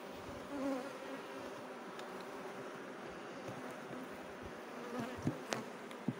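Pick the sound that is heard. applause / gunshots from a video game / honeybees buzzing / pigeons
honeybees buzzing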